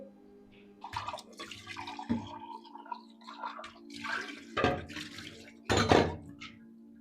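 Dishes clatter and scrape in a sink, with several sharp clanks of metal and crockery over a steady low hum, no talk.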